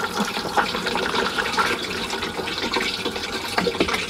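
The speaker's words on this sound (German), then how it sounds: "danach lässt man das Ganze mit der Wasserspülung dann auch noch mal ein bisschen nachlaufen" Water rushes steadily from the flush of a campervan cassette toilet, rinsing the cassette in a continuous close gushing stream with small splashes throughout.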